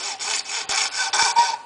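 Hand saw cutting through acrylic sheet, a close, loud rasping stroke sequence of about seven back-and-forth strokes in an even rhythm with no talking.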